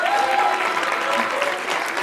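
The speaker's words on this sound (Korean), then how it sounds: "박수 좀 쳐주세요." Continuous audience applause at a church gospel speech contest, a thick, even wash of many hands clapping close and loud, with faint voices mixed in beneath it.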